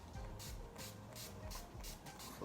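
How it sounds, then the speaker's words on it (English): Short bursts from a NYX matte finish mini makeup finishing spray, misted over a face in several quick, close hissing pumps at a steady rhythm. "I'm going to take my Matte Finish Mini Matte NYC Professional Makeup Finishing Spray, and I'm just going to spray"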